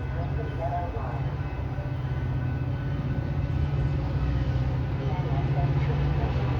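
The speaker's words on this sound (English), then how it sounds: "BNSF train number 1241 to Aurora is now arriving." BNSF commuter train arriving at Downers Grove station, a steady low rumble and rolling drone that holds at an even level throughout, fairly close, with no break or rise in loudness.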